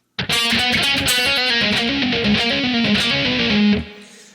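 Distorted electric guitar, palm-muted at the bridge, rattles off a quick, tight riff of clipped notes, chugging and percussive, before cutting off into a brief tail.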